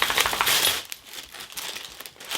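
Paper stuffing crinkles and rustles inside a newly unboxed leather tote handbag, a close, busy burst of crackling at first that thins into scattered softer rustles.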